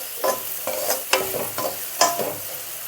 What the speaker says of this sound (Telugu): కొంచెం ఫ్రై అవ్వాలి.